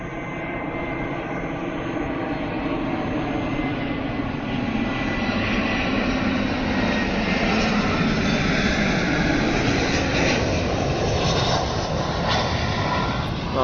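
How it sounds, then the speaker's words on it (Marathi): An airplane's engine roars continuously, a loud broad rumble and whine that swells gradually as it passes close overhead, with no talking. "मी प्लेन बघायला आलो एका स्पॉटकडं तुम्हाला दाखवतो प्लेन"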